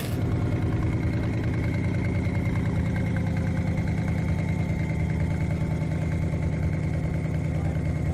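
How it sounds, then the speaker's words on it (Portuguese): A Corvette powered by a 477 big block engine idles steadily with a low, even rumble, running alone at constant speed for several seconds. "This is powered by a 477 big block."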